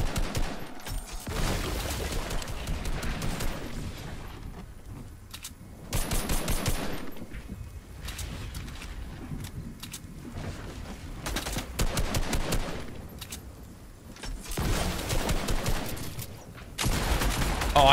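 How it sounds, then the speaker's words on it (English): Repeated gunfire bursts in a Fortnite match, shotgun blasts among them, hit in loud clusters separated by quieter stretches of game noise, with several rapid volleys across the span. "I missed my shotgun shot."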